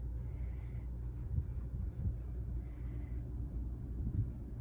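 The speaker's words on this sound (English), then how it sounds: "So Connie, let's write down Connie." Writing on a board produces a soft, continuous scratching and tapping of strokes at close range, faint against a low background rumble.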